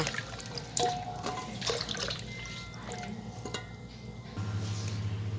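Soaked papaya pieces drained of their limewater, with water trickling and dripping steadily away, faint and close, with no talking.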